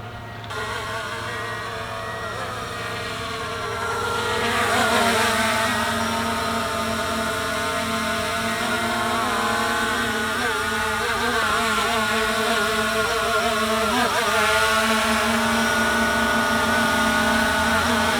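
A Hubsan Zino 2 drone flies in for a manual landing, its high buzzing whine steady and loud, rising as it nears and shifting pitch as it slows and hovers.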